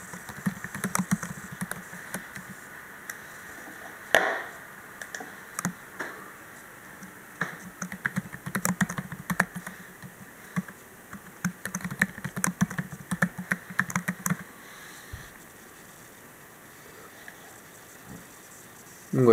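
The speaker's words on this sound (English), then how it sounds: "You can hear the sound changes as a pattern of access to a hard drive changes." Static-like crackling and faint ticking from a Dell Precision M3800 laptop while its SSD is being accessed, the irregular bursts changing pattern over time and sitting quietly above a low hum.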